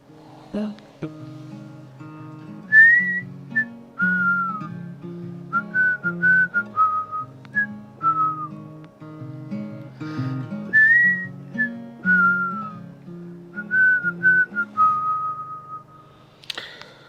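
A person whistles a clear, lilting melody over a steady musical accompaniment, the tune rising and falling in short phrases throughout.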